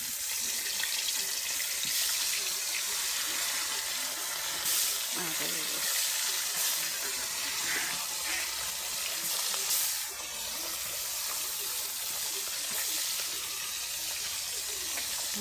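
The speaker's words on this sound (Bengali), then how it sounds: "এই যে তেল গরম হয়ে গেছে, এখন মাছটি ছেড়ে দিম" Fish frying in hot oil in a wok, a steady loud hiss and sizzle that continues throughout with occasional faint clinks, close to the mic.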